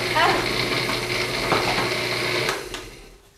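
A steady mechanical whir and grinding of a food processor crushing cookies and almonds for a cheesecake crust runs loud and close before tapering off near the end.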